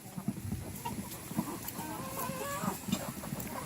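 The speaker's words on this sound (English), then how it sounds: "Here are all the chickens eating in what I call their convertible chicken coop." Chickens cluck softly while eating in an open-topped convertible coop, with scattered close pecking taps and low murmuring calls throughout.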